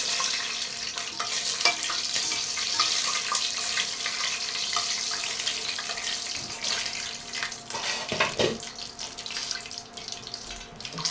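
Vegetable chow mein ingredients, including fried peanuts, sizzle in plenty of white oil in a wok while being stirred. A steady, fairly loud frying hiss runs throughout, with scattered clicks and scrapes from the stirring.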